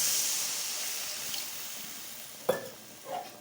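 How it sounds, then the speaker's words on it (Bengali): Water is poured into a hot pan while cooking egg potato curry, bringing a loud hiss and sizzle that slowly fades. Near the end come a couple of short clinks and a stirring scrape. "দিয়ে দিচ্ছি জল।"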